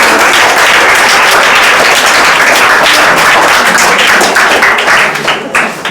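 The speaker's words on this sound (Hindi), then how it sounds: "बजाओ ताली भाई के लिए।" Classroom applause for a student who won a prize in a Saturday test, a dense steady clapping from a group that fills the whole clip and tapers slightly at the end.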